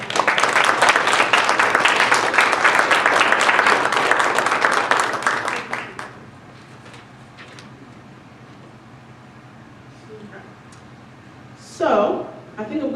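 A conference audience at an inclusive justice event breaks into loud, dense applause that holds for about six seconds, then fades out, leaving a quiet room before a voice speaks.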